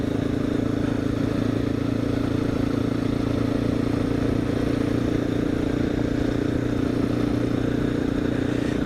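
A motorcycle ridden along the Indian River gives a steady, droning engine hum with wind rush and light clatter throughout, close and continuous, with no talk.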